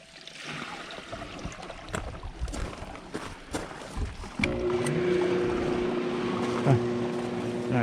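Newly replaced hot tub pump switching on partway through and then running steadily, a constant humming motor with water churning, after a stretch of clattering handling noise.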